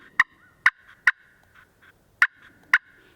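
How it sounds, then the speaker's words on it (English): A glass turkey call played by hand gives sharp, spaced clucks, five or six crisp yelping notes over a thin sustained tone, near and distinct with no talking. "This is more clucking, curiosity cutting."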